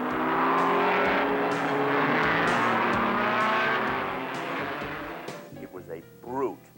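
A tremendously powerful Novi race car engine from the STP racing era roars in a loud, sustained drone that dominates most of the stretch, then eases and wavers toward the end.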